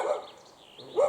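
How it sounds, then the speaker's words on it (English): Dogs barking at countryside kennels in the Yorkshire Dales, two short muffled barks a second apart, moderately distant, with quiet outdoor ambience between them. "we've got a few dogs there, look"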